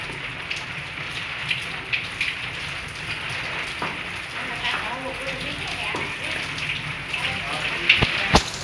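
Steady rain during a sudden windstorm in Bajud, Gujarat, patters on a surface, a dense hiss of drops throughout with a few louder splashes near the end.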